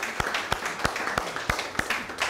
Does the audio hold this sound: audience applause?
yes